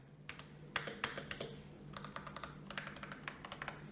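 Keys of a Razer Huntsman V2 Analog keyboard pressed in quick, uneven bursts of soft, not very clicky taps, fairly close, with a low steady hum underneath and no talking.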